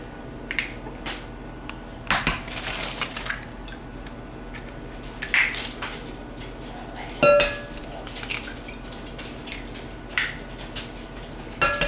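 Eggs being mixed in a bowl for Southern cornbread dressing, irregular clinks and taps of a utensil against the dish, moderately close, with quiet gaps between strokes.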